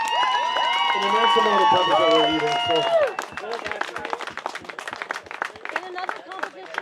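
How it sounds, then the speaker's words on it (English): Audience applause and clapping at a pepper eating competition, Heating Up the Capital 2022, under loud talk from an announcer over a busy crowd, with dense claps filling the latter half. "Another round of applause."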